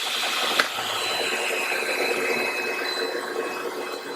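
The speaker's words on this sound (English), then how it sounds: "Dust collector going." A workshop dust collector runs with a steady, loud broadband whoosh and airy hiss, holding constant without pause apart from a single small knock near the start.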